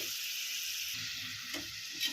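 Steady sizzle of onions frying for mushroom masala, with a bright hiss and a couple of slightly louder crackles near the end, no voices.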